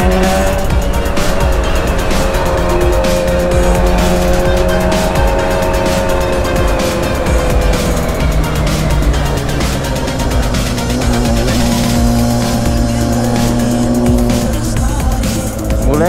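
Carbureted Honda Hornet 600 motorcycle engine revving hard on a ride, loud and continuous with rising and falling pitch as it accelerates through gears, dominating the whole stretch.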